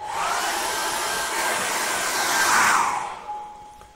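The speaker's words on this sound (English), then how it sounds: "I'm going to dry that off very quickly now with a hairdryer" A hairdryer runs close up, drying acrylic paint with a steady loud whooshing blow and a faint motor whine. The airflow swells briefly near the end and then fades as it is moved away or switched off.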